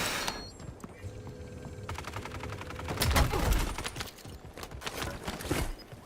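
Rapid bursts of submachine gun fire in a video game, a dense crackling string of shots that swells loudest midway, with no voices over it.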